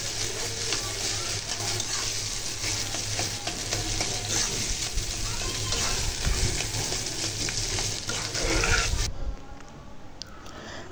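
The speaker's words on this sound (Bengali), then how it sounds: "এখন এই যে ডিমটাকে একটু ভালো করে কষিয়ে এরপর পরিমাণ মতন পানি দিয়ে দেব।" Fish roe sautéed with onion and spices in a pan gives a continuous close sizzle with scraping stirs and occasional clinks, fairly loud, before dropping to a quieter background near the end.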